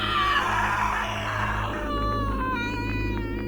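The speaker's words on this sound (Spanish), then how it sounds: "el cristal vibró y dejó escapar un grito que llenó todo el ático" A horror-story scream effect: glass vibrating and letting out a scream that fills an attic. A shrill, sustained, cat-like wail rises and wavers over a steady low drone for several seconds, loud and close.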